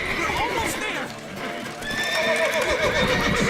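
A horse in The Witcher 3 Wild Hunt whinnies loudly amid hoof clatter and battle din, with shouting voices over it throughout.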